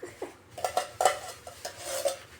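Buko salad with fruit cocktail being stirred in a bowl, a spoon clinking and scraping against the sides in a quick, irregular series of close, fairly soft knocks with no talking.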